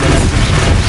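An Arresto Momentum spell cast in the Hogwarts Legacy video game: a brief, loud, dense surge of rumbling magical energy with a crashing texture, lasting about a second.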